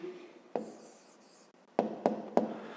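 Pen strokes scratch on paper, a short scrawl followed by three quick sharp taps and scribbles, close and quiet with no talking.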